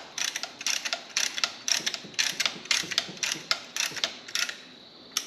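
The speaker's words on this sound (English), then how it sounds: "So we can just go ahead, as you would any regular old caliper, and compress it" A tool compressing the rear brake caliper piston on a Hyundai Kia with an electronic parking brake gives a steady run of close, sharp metallic ratcheting clicks, roughly two per second, with nothing else heard.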